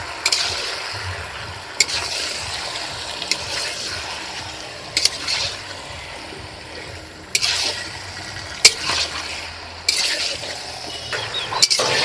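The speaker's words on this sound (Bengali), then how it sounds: "এখন মশলার সঙ্গে মাংস আলুটাকে খুব ভালো করে কষিয়ে নেব" Chicken pieces and cut potatoes being sautéed with spices in a pan for a recipe using a large 4 kg Patnai chicken, with a steady background sizzle broken by periodic sharp scraping stirs of the spatula.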